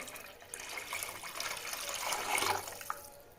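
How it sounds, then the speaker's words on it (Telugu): A cup and a half of water pours into a cooking pot for rice, a steady splashing rush that builds toward the end with no voices. "నేనైతే ఈ చెమ్ముతో ఒకటిన్నర చెమ్ము నీళ్ళు పోస్తున్నాను"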